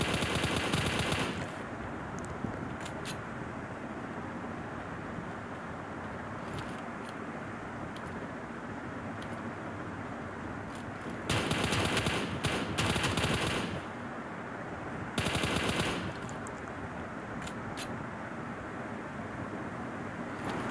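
M4 rifle with a red dot sight fired in PUBG Mobile, loud rapid automatic bursts at the start and in two later volleys, with a constant dense background of game noise between them.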